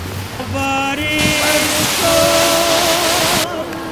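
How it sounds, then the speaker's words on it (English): Heavy rain pours steadily outdoors, a dense, loud wash of noise that fills the whole stretch, with a few tonal hums and whines in the background. "It's raining too much."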